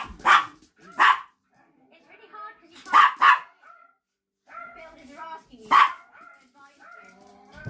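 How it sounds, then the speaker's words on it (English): A small, feisty dog gives five sharp, loud barks in uneven bursts, some in quick pairs, close by, while a person talks between and beneath them. "it's only loud for a little dog."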